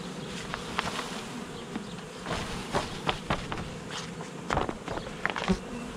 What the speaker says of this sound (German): Dann kippen wir erstmal die Bienen hier in die Kiste.